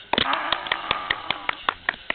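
Rhythmic hand clapping from a small group at a Korean Christian gathering in Chilgok, a steady run of sharp, close claps about five per second, with a faint voice underneath.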